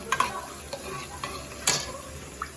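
A utensil stirs thickening dinuguan, a Bicol-style pork blood stew, in a pan, with soft sizzling and occasional sharp scrapes and clinks against the metal at an uneven pace.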